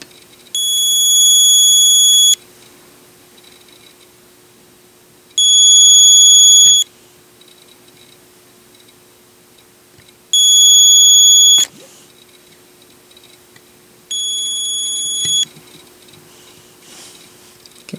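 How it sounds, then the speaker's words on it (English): Presidium diamond tester sounding four loud, steady electronic beep tones, each lasting one to two seconds with pauses between, while testing small diamonds set in a gold pendant bail. "I'm going to do some testing with the Presidium diamond tester"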